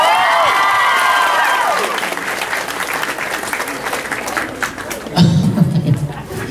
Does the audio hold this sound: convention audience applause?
yes